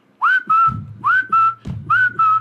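A human voice imitates jungle creatures' whistles, giving a run of short rising-then-level whistled calls, each followed by a low tap, repeated in a steady rhythm, loud and close.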